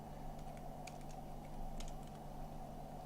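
Quiet computer keyboard typing, a scattering of soft, irregular key clicks over a constant low electrical hum.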